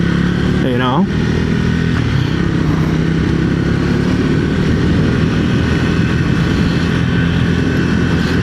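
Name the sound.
Triumph Speed 400 motorcycle riding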